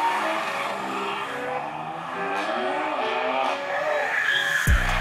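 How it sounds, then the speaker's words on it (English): A BMW spinning out with tires squealing and skidding, a sustained loud screech over engine noise that runs throughout, ending in a short thump. "On this next clip that we're about to see, there's a spin out"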